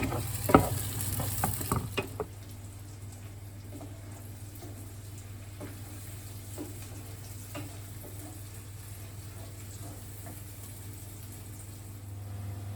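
Courgettes and caramelising onions fry in a pan. A spoon scrapes and stirs loudly at first, then a soft, steady sizzle continues, broken by light clinks and scrapes.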